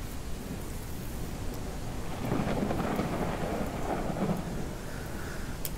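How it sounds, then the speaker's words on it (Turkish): Steady rain and rolling thunder in the farming video game Ranch Simulator: a constant wash of rainfall with a deep rumble that swells midway and fades, and no voices. "Sanırım yağmur hala devam ediyor."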